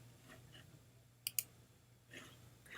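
Two quick, crisp computer mouse clicks close together on a Save and Continue button while filling in an online school registration form, sharp and isolated against a quiet room hum.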